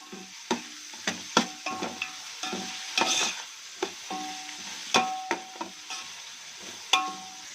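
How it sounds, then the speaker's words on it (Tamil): Onions for prawn biryani are sautéed and stirred in a pan, with soft sizzling and frequent scraping clicks of the spoon, close and fairly quiet, with no talk. "வெங்காயம் நல்லா பொன்னிறமாக வர வரையும் அப்படியே வதக்கிட்டே இருங்க"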